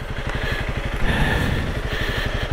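A Honda CRF 300L Rally motorcycle engine on a riverbar trail, a loud, close, steady single-cylinder thumping that rises slightly in revs midway.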